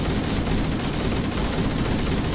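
Sustained assault rifle fire from Halo: Combat Evolved Anniversary rattles continuously in a loud, rapid, unbroken stream of shots.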